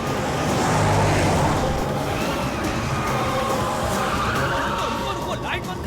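A car is driven hard in a chase scene from a Hindi-dubbed South Indian comedy film, with a loud, continuous roar of engine and road noise that barely lets up and voices mixed in.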